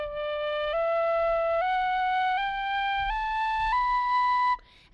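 On a tin whistle, a rising scale is played without tonguing, so six clear, steady notes slide into one another in an unbroken line with no gaps, close and alone, ending with a short breathy cutoff.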